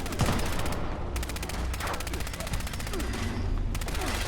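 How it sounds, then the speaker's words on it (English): A fast-firing, SMG-like gun in a video game rattles off long continuous bursts of rapid shots, dense and steady, with brief gaps between strings of fire and a voice faintly underneath. "He's not using a minigun, but his gun shoots really fast. It's like an SMG."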